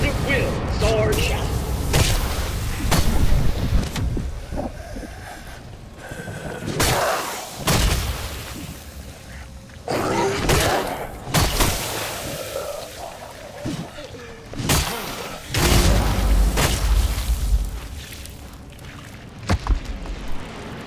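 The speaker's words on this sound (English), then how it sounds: "Set off the right side mortars at will" Mortar explosions in the Dead Island 2 video game, a series of heavy booming blasts spaced several seconds apart over continuous battle noise, with game voices talking between them.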